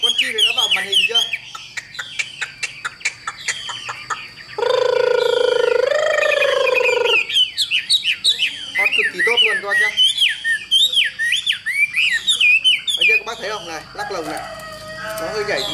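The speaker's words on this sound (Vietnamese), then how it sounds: "Em xách lồng vẫn hót bình thường nha các bác nhé." A caged hwamei songbird, a Tam Hoang bird, sings loud, fluid whistled phrases almost continuously while its cage is carried, with a sustained bright note midway and a voice talking briefly over it.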